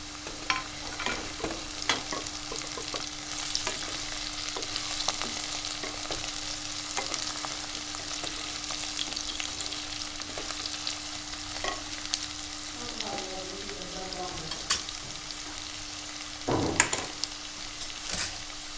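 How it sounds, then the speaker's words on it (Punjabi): Chopped green chillies fry in oil while an aloo methi is cooked, giving a steady low crackling sizzle with scattered pops and a few stirring scrapes, fairly quiet and alone. "ਪਹਿਲਾਂ ਆਪਾਂ ਦੋ ਤਿੰਨ ਹਰੀਆਂ ਮਿਰਚਾਂ ਕੱਟ ਲੀਆਂ ਸੀਗੀਆਂ ਇਹ ਪਾ ਦਿੰਦੇ ਆਂ"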